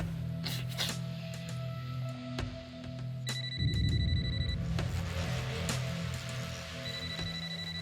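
A telephone rings back on an outgoing call, steady repeating ring tones over a low background hum, with no talking.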